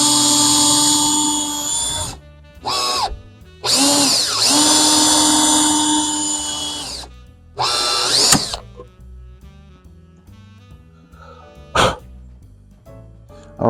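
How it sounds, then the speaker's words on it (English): A power drill bores straight down into wood while building a surfboard coffee table, whining loudly in several bursts of a few seconds each with pauses between, then short quieter blips near the end. "try to drill nice and straight down"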